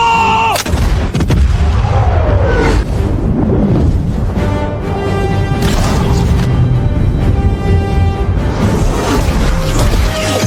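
Rifle squad gunfire in an animated war drama: a loud volley of sharp shots and booming blasts opens the scene, then continuous rattling fire, echoes and ringing tones carry through to the end amid a dense battle soundtrack.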